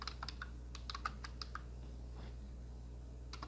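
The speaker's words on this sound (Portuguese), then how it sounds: "Digito Image Clip no teclado." Quiet, close keystrokes on a computer keyboard as a command is typed into AutoCAD, a quick burst of about a dozen taps, a pause, then two more taps over a low steady hum.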